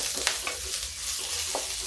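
Onions frying in a pan with ginger pieces, a steady soft sizzle with a few light scrapes of stirring, fairly quiet and close.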